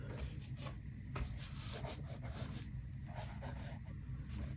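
Pencil sketching a snowman drawing on paper, quick scratchy strokes in short bursts, close and faint with pauses between them.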